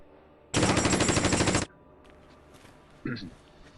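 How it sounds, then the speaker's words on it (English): A loud, close burst of rapid machine-gun fire from the Conflict of Heroes wargame raking Russian infantry squads lasts about a second, its rounds evenly spaced, and a brief secondary sound follows shortly after. "MG over here to actually put some fire down onto these Russian infantry squads"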